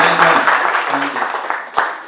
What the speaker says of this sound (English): give Al a little bit of a round of applause